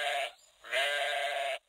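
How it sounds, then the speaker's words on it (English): A sheep bleats twice, a short baa followed by a longer, wavering baa, close and clear with a brief pause between, and no talking. "she wakes up Wooly the sheep. Wooly says, "Baa, baa.""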